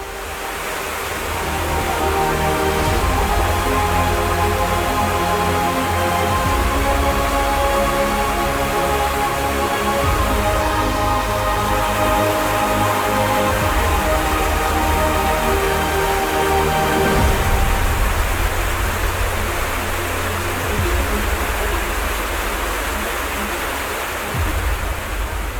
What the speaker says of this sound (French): Les chutes de Yosemite, parmi les plus hautes du monde, sont en fait constituées de 3 chutes distinctes.